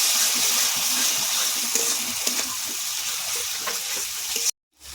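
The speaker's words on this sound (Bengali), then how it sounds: "এবার আমি টমেটো বাটাটা দেব, ভালো করে কষিয়ে নেবো এবারে তেল ছাড়া অবধি।" Tomato paste sautés in hot oil for a rohu fish kalia, giving a loud continuous sizzle with the scrape and churn of stirring. It cuts off abruptly just before the end.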